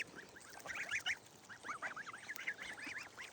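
Young ducklings and goslings cheep and peep in a busy overlapping chorus of high, rising calls, faint and steady against a soft outdoor background by a pool and grassy yard.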